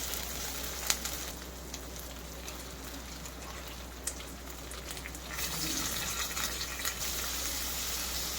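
Chicken liver sizzles steadily in a hot pan while being sautéed, a soft continuous frying hiss that grows slightly denser partway through, with no talking over it.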